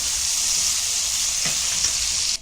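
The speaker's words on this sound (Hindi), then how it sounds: "प्याज के साथ नमक डालेंगे और प्याज को थोड़ा कलर बदली करेंगे, नरम नहीं करेंगे" Onions frying with salt in a pan give a steady, close sizzle throughout, with one brief stir scrape partway through before the sound cuts off.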